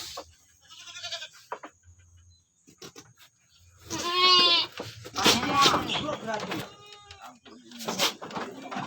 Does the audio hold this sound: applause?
no